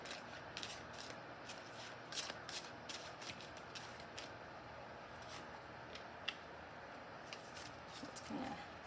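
Tarot cards are shuffled and drawn in quiet, brief, soft riffling and flicking bursts with small taps between, close but faint, no talking.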